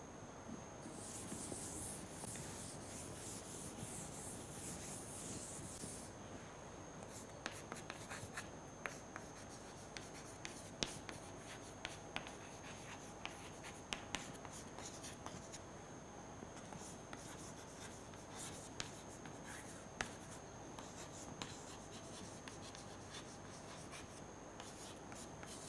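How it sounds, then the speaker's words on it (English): Chalk or marker scratches and taps on a lecture-hall board in a continuous, faint series of short strokes, with no talking and a steady hiss underneath. "So, let me write that also."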